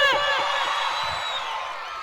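A live comedy show audience shouts and cheers loudly, overlapping whoops and raised voices forming a dense, steady roar that tapers gradually over a couple of seconds.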